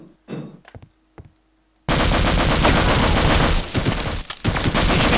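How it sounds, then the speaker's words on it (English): A shotgun fires in the Half-Life: Opposing Force video game: a few short sharp bangs, then a sudden loud sustained blast of gunfire that runs to the end. "You're using a shotgun."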